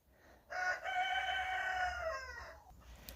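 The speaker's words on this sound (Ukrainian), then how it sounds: "От півні розспівалися." A rooster crows once in a long, clear call, moderately distant, against a quiet outdoor background.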